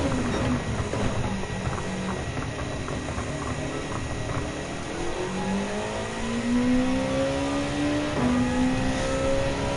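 A Group 2 race car engine in Gran Turismo 7 drones steadily through a time-attack lap, its pitch climbing in rising sweeps as it accelerates, loud and continuous with no talk.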